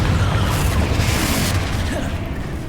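Confringo blasting spell going off in the video game Hogwarts Legacy, a loud sustained boom with crackling rumble and dense low-end roar that fades slightly toward the end.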